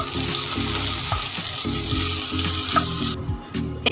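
Spices with chili powder and mustard paste are stir-fried in oil for a vegetarian pointed gourd leaf dish, giving a steady sizzle with rhythmic scraping strokes and low clatter throughout, close up and without speech.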